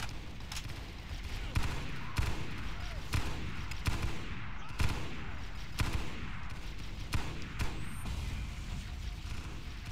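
Gunfire and a grenade blast in the first-person shooter Halo SPV3, with repeated sharp shots and heavier thuds spread across a steady din of combat.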